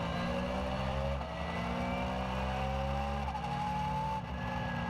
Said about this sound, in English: Very close fighting there in the Porsche GT3 Cup Challenge Benelux, and Wouters even gained a spot.